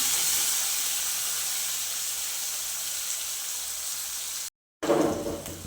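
Onion and tomato sautéing in a pan give a steady, even hiss and sizzle, fairly soft and constant, broken by a brief silent gap and then a louder burst of sizzling near the end.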